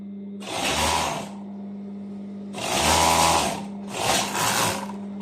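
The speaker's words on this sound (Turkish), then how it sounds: "Overlock 4 iplik, 4 iplikte bu şekilde dikiyorum." A four-thread overlock sewing machine stitches trouser seams in three loud whirring bursts. Each burst is a steady, close motor hum over a constant low drone, with short quiet pauses between them.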